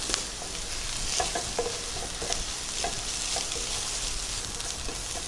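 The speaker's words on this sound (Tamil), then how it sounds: "வெங்காயம் லேசாக செவக்க ஆரம்பிக்குது." Onions sizzling in oil in a pan for a kurma-style curry, a steady frying hiss broken by repeated scraping clicks of a spatula stirring them, close and with no talk.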